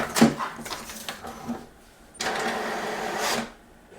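An HP DeskJet 4255e printer pulls in pages while copying, a close whirring and rattling feed that stops and restarts, ending with a longer steady mechanical run.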